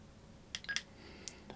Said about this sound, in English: Beep on, as you can hear.